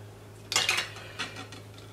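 Metal spoon scraping inside a scallop shell to lift out the flesh and coral, a burst of clinking scrapes followed by two softer scrapes, close and alone with no talk.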